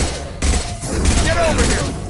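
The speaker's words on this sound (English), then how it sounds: "Taking heavy fire." Heavy gunfire in the video game Mass Effect 2: a dense, continuous fusillade of loud shots with booming low thuds, masking other sound through the short burst.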